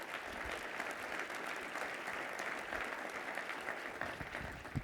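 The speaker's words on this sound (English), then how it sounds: "Can we give them a little round of applause, please?" A conference audience applauds after a plenary presentation, a dense steady clapping from a full room lasting several seconds without any voices.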